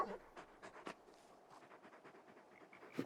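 Dog panting in the video game Final Fantasy XVI, rhythmic breathy huffs repeating at a steady pace, quiet and close, with a faint sound at the end.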